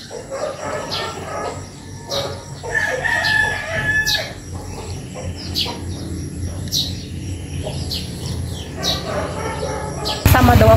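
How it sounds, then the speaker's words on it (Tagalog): Chickens and roosters of a backyard flock in the Philippines crow and cluck noisily, with repeated crows rising over a steady busy clucking backdrop; a voice talks briefly, and a loud burst comes at the very end. "Maingay po yung mga manok niya."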